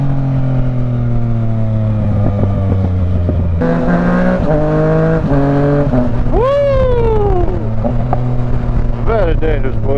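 A motorcycle fitted with a homemade quick shifter accelerates hard, its engine stepping up through rapid gear changes, followed by a sharp rising rev, loud and close with voices around it.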